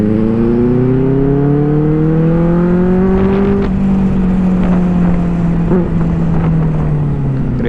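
On a night ride in public, a Benelli 600i and a Kawasaki Z900 superbike rev loudly and close by. The engine tone climbs, then holds a sustained droning pitch before easing slightly.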